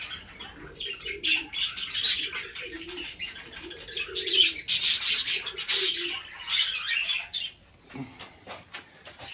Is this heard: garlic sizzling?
no